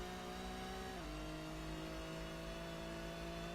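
A race car engine drones steadily in Gran Turismo during a Gran Turismo Cup race, dropping in pitch at a gear change about a second in, then holding an even whine. The sound is quiet and there is no talk.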